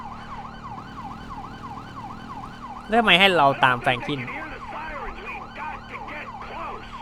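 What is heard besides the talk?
siren in Grand Theft Auto video game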